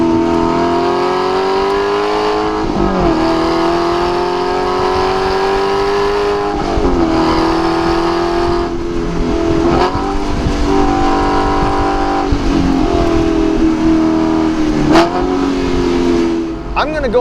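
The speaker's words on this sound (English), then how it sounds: "this just might be one of the best sounding V8s on the road right now" An Aston Martin V8 Vantage S Roadster revs hard through its gears, the V8 rising in pitch, dropping at each crisp shift and climbing again, loud and close throughout.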